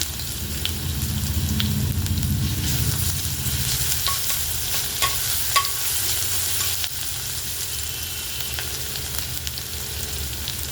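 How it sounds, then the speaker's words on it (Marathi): Ginger-garlic paste and cumin seeds fry in hot oil in a pan, giving a steady, close sizzle with scattered small crackles and pops, loudest at the start and then settling into a softer hiss. "जिरं तडतडलं की एक चमच अद्रक आणि लसणची पेस्ट टाकून घ्यायची आहे"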